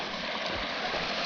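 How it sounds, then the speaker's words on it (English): A small creek beside a hiking trail gives off a steady close rush of flowing water, brief and even, with no voices over it. "Nice little creek."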